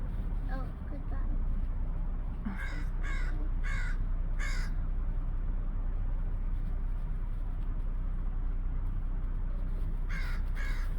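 Crows caw in loud bursts of two to four calls near a Christmas tree, a steady low rumble running underneath while people talk between the calls.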